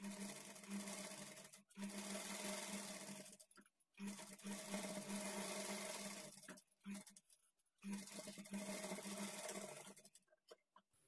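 A sewing machine stitches a high neck blouse in several loud, close bursts of rapid mechanical whirring, separated by short pauses.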